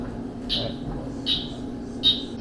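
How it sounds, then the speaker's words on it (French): A limpkin's call plays back at an Everglades exhibit as three separate shrill, piercing cries evenly spaced over a low steady hum, with no voices. "Et là c'est le limkin qui est un oiseau qui est juste là."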